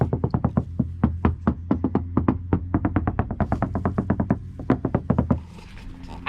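Knuckles rap on the door of a first-generation Toyota Tacoma pickup fitted with sound deadening, a long run of quick, dull, closely spaced knocks with short pauses, close and clear.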